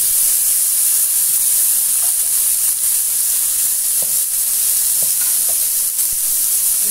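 Bacon frying dry, without oil, in a hot Philco Redstone PPE04FS electric pan, giving a steady close hiss and sizzle with a few small pops scattered through.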